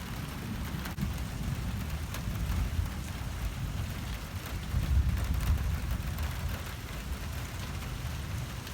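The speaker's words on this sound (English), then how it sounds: "That's thunder." Steady rain from Tropical Storm Imelda falls with a deep, low rumble of thunder rolling beneath it, swelling around the middle before settling back into the constant wash of rain.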